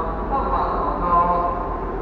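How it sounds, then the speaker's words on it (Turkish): Low rumble of a train at a station platform in Manchester, a steady close drone filling the space with faint background murmur. "Şimdi tren istasyonundayım."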